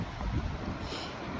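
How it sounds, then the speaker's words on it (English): Loud, rumbling wind buffets the microphone continuously, a dense roar with no other sounds standing out. "It is so windy here, guys."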